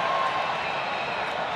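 Baseball crowd at the Alamodome, many of them Texas Rangers fans, making a steady broad roar and cheer throughout, fairly loud and continuous with no distinct voices standing out.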